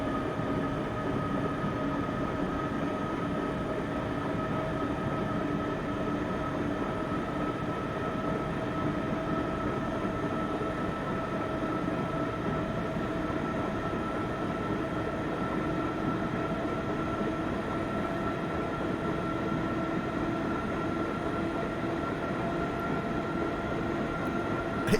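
A Swiss mountain train on the Heidi Express route to Davos in Train Simulator 2021 runs steadily, a continuous rumble with a sustained tonal hum from the running gear and no voices over it.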